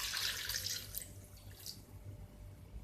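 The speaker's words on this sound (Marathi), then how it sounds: "मी हे आवळे ह्या कुकरच्या भांड्यात घेतलेले आहेत आणि मी त्यात पाणी ओतते आहे।" Water is poured from a tap or vessel into a pressure cooker pot holding amla, a soft, faint splashing and trickling that fades after a second or two.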